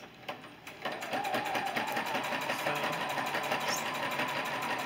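A sewing machine stitching a simple baby quilt runs in a fast, steady mechanical whir with a rapid needle chatter, starting after a few clicks and continuing close up without pause.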